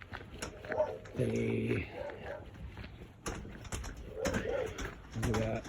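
A dog barks repeatedly from behind a glass window beside a road, in a few short bursts of harsh barks at moderate distance, while someone talks over and between them.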